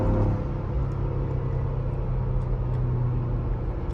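A Ford Bronco Raptor engine held at high revs in sport mode, a steady, loud low rumbling drone that stays even throughout with no voices.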